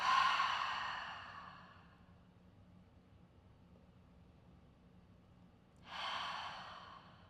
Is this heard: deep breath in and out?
yes